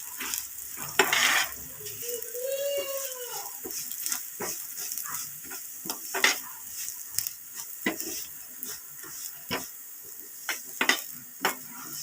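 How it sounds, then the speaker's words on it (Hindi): Vermicelli (seviyan) fries in oil on a low flame, a soft sizzle broken by repeated scraping and stirring clicks at an irregular pace, with a brief animal-like bleat early on. "बिल्कुल हल्की लो फ्लेम पे हम इसे फ्राई करेंगे।"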